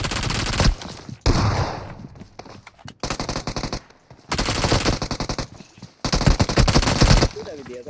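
Rapid automatic gunfire from the battle royale game BGMI during a squad match, loud bursts in several long stretches separated by short gaps, with a voice talking over some of it.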